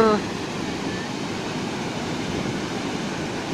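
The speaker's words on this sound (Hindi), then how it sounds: "देख रहे बड़े बड़े लहर उठ रहे हैं" Big ocean waves at Puri beach make a continuous, loud rushing wash of surf that fills the whole stretch evenly, with a brief tonal sound at the very start.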